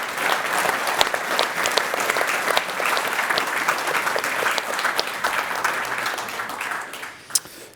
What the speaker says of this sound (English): let's give them a round of applause here for.